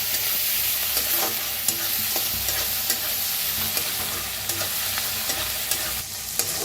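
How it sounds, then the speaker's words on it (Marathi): Chopped onion and coriander roast in a hot pan for a vegetable curry, giving a steady loud sizzle with scraping stir strokes and occasional sharper pops throughout, with no one speaking. "कांदा छान भाजायला लागलेला आहे"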